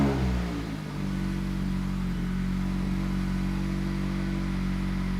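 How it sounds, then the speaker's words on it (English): A Mazda MX-5 Miata ND roadster's engine turns over and settles into a steady, fairly close idle hum, running alone with no talk. "I'm gonna start up the car."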